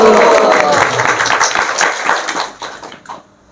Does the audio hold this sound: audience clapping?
yes